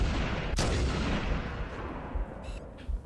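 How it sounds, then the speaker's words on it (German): A single loud gunshot in the Halo: Combat Evolved video game, a sharp crack followed by a long rumbling decay, with faint game effects and small thumps afterward. "So, letzter Schuss."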